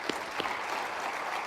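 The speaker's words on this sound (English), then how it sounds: "So just a big round of applause here." Applause from a conference keynote audience, a short burst of steady clapping with a couple of sharper claps near the start, moderately distant and with no talk.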